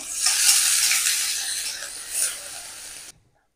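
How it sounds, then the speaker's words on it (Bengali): Chopped onion with a pinch of salt frying in oil in a pan, a steady loud sizzle with soft stirring scrapes that swells briefly near the end, then stops abruptly, no voices. "পেঁয়াজ ভাজা হয়ে গেছে, যে হালকা ভেজে নিয়েছি।"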